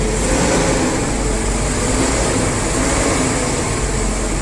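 A New Holland tractor fitted with a Euro 6 AdBlue emulator, its engine running in a loud, steady, unbroken drone with a dense broadband roar throughout.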